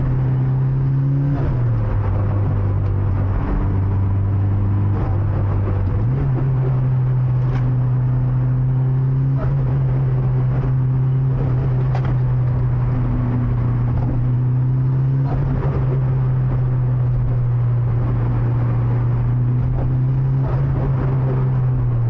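A car drives along mountain roads with a loud, steady engine drone heard from inside the cabin; the engine note holds, shifts with gear changes and rises slightly, continuing throughout with no talking.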